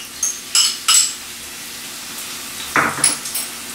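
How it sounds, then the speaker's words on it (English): Red bell pepper goes into a pan already holding onion and olive oil. A few sparse metallic clinks and one soft scraping clatter sound up close, separated by quiet stretches, with no voices. "And I'm going to add the red bell pepper."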